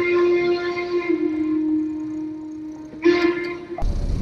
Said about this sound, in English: Oh wow, that's a badass train.